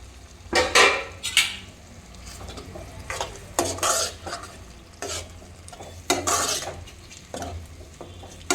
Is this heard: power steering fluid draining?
no